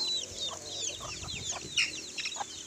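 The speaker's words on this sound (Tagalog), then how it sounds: "So native yung kanilang mga manok." Native chickens on a farm cluck and chirp in short scattered calls, some near and some farther off, against a quiet outdoor background.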